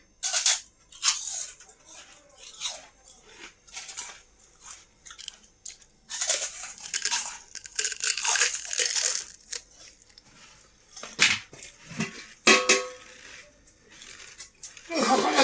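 Fried papad being crunched while eating, with repeated loud, close crackling bites and chewing in bursts separated by short pauses.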